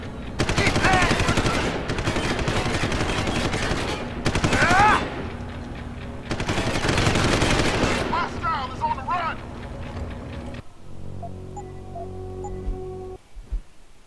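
An enemy in Deus Ex: Human Revolution fires rockets and guns in rapid bursts of loud, dense gunfire that comes in several long volleys, then gives way to quieter game ambience near the end.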